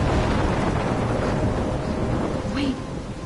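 A thunderstorm in the video game Life is Strange: dense, loud rain and rumbling thunder fill the whole stretch steadily, with a brief voice-like sound near the end.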